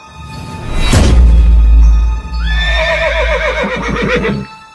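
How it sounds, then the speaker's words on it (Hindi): A horse struck by a thrown dagger lets out a loud, close, drawn-out whinny lasting several seconds, ending in a shaky, quavering fall, heard alone without speech. "जंडू चाचा उठते हैं और अपने हाथ में रखे हुए खंजर को उस सरकटे के घोड़े को खंजर से फेंक के मारते हैं"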